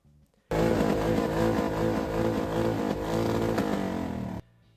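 Motorcycle engines roar loud and close at a season-opening rally in Kalwaria Pacławska, a sustained throaty rumble with rising and falling revs that starts suddenly and cuts off after about four seconds.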